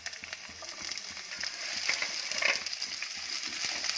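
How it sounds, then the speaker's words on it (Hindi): Chopped onions fry with browned garlic in a pan for a tofu stir-fry, giving a steady, moderately loud crackling sizzle with small pops throughout and no talking. "अब हम इसमें चॉप्ड अनियंस डालेंगे।"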